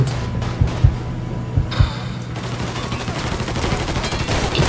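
Bursts of distant gunfire with a few sharper, louder shots, rattling on and off amid a busy, noisy background in the video game Mafia III.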